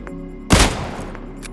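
A Mosin or Kar98k bolt-action rifle in PUBG, heard as one loud metallic report or bolt clack with a short decay amid faint game ambience.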